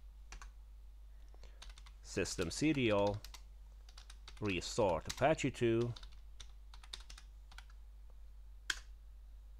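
Computer keyboard typing in bursts of rapid clicks while installing a LAMP server on Debian Linux, close and clear, with someone speaking between and over the keystrokes.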